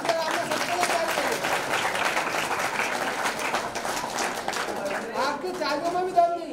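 A seminar audience applauds, full and steady clapping filling the hall while a voice speaks over it, rising again briefly near the end.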